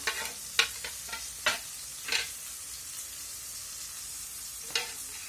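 Garlic, cloves, cinnamon and chickpeas roast in oil in a pan, giving a soft continuous frying hiss broken by a few sharp scrapes and taps of a stirring spoon, close and fairly quiet with no voices.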